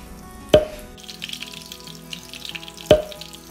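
Breaded coconut chicken pieces frying in a pan give a soft, continuous sizzle and bubbling, with two sharp clacks a couple of seconds apart.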